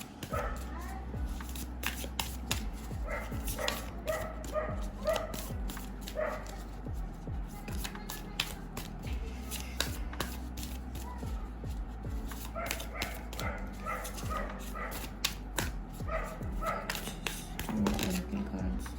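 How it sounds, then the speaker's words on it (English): A dog barks intermittently in the background throughout, its yips and woofs faint and scattered beneath steady talking during a pick-a-card tarot reading. "I'm sorry for the dog barking in the background."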